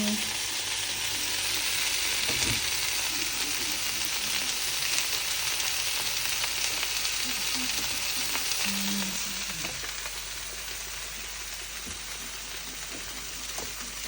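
Potatoes frying in a pan of hot oil at a home stove, giving a steady, even sizzle and hiss that holds throughout and softens a little toward the end.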